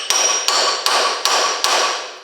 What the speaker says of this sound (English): Steel hammer.